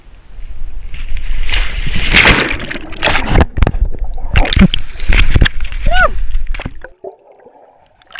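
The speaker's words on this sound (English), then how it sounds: "we're just going for a swim in the loch with a friend Claudia from Switzerland." People jump into a Scottish loch with loud splashes and sloshing water, several bursts of spray in quick succession, while voices shout and talk close by; the water noise drops away near the end.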